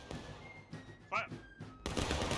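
Infantry musket volley fired on command, a sudden loud broadband crack bursting in near the end after brief spoken commands and quiet background, holding as a dense roar.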